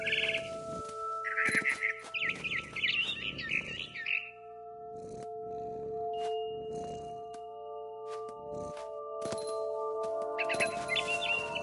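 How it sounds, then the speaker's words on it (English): A frightened bird in the video game What Remains of Edith Finch chirps in quick, bright bursts, close and clear over sustained soft musical tones, with pauses between the calls. "I tried to be quiet, but the bird was really scared."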